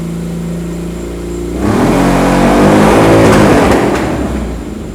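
A motorcycle engine powering a swamp buggy idles with a low rumble, then is floored to full throttle, roaring loud and close for several seconds before easing slightly.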